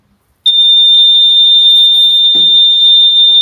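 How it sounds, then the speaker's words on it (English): A fire alarm sounds suddenly as a loud, piercing, continuous high-pitched tone that holds steady without a break, with a brief faint voice underneath. "Fire alarm."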